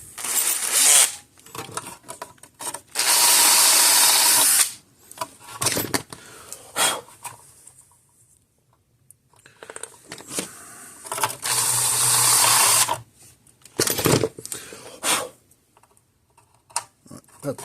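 A stepper bit drills through a Gallagher M600 fence charger during a repair, in two loud grinding bursts of about two seconds each, with quieter clicks and handling noises in between.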